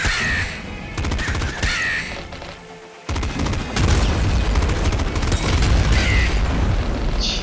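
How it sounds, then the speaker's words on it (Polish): Ravens cawing in the video game Nuclear Throne: harsh repeated caws over dense game noise of booms and rapid gunfire, loud and continuous, with no talking. "Gnijcie kruki jedne."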